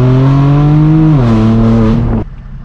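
A straight-piped BMW M4 F82 holds a loud, droning exhaust note close to the microphone, pitch dipping slightly as revs drop, then cuts off abruptly near the end.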